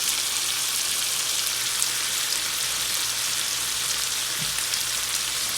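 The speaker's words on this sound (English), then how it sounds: "Now, I'm going to add some garlic." Garlic frying in a pan for cabbage and saltfish gives a constant, even sizzle with no pauses, heard close and alone.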